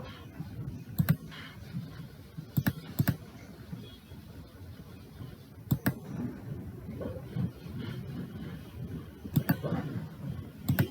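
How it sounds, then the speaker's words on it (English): Sparse bursts of computer keyboard clicks as a short character code is typed, a few quick keystrokes clustered together, then pauses, close and quiet against a faint room background. "Just type this character code and click on insert."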